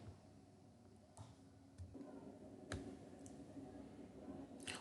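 Computer mouse clicks open Notepad, a few sharp, faint single clicks spaced irregularly over a quiet room background.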